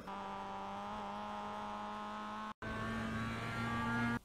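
A Mazda MX-5 race car in iRacing accelerates hard at Lime Rock Park, a loud steady engine whine climbing in pitch, cutting out for an instant at a gear change, then pulling again.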